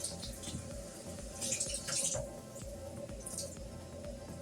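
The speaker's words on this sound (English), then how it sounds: "And wet the rag." Water runs from a tap onto a rag, a soft steady trickle with faint splashing and a few brighter spatters, fairly quiet.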